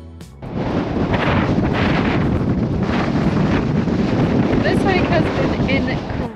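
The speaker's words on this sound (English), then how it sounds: "Incredibly windy so far, just really strong wind gusts, 30, 40 miles an hour." Strong gusting wind of about 30 to 40 mph roars steadily across the microphone on a hiking trail in Glacier National Park, loud and broadband throughout, with faint bird chirps.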